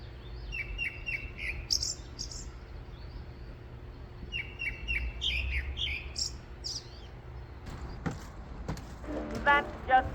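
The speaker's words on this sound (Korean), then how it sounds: "걷다가 새소리가 너무 예뻐서 멈췄어요." Birds sing in the Korean countryside with bright chirps and short trilled phrases repeating in bursts, fairly clear over a quiet rural background, followed near the end by some rustling and other sounds.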